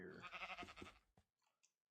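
Minecraft sheep bleating: one wavering game-sound bleat up close, followed by a few faint, brief clicks and chewing-like bits as it fades to near silence.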